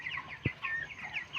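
25-day-old broiler chickens on a small 500-bird poultry farm at night give repeated, close, fairly quiet high peeping chirps in a steady rhythm, with one short thump partway through.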